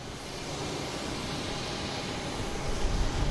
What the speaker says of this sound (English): Next to me is JetBlue from Orlando, an A320